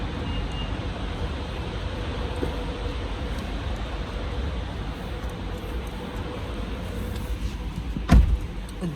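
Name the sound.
car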